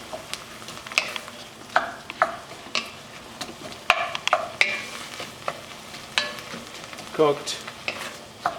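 Noodles being stirred into simmering soup in a pot, a close series of irregular clinks and scrapes of a utensil against the pot over a soft bubbling sizzle; a voice speaks briefly.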